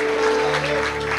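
Church congregation clapping loudly and steadily throughout, a dense wash of applause with a sustained tone of music or singing underneath.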